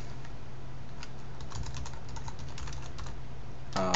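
Keystrokes on a computer keyboard tapping in an irregular run during coding work, steady and close, with no talk over them and a brief different sound at the very end.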